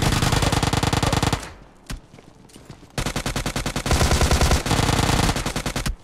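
Uzi gunfire in a video game sounds as rapid automatic bursts, loud and close, with a short pause in the middle and then further sustained strings of shots.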